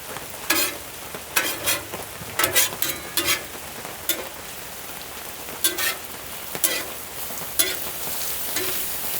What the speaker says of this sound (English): now I'm gonna go ahead and just start flipping them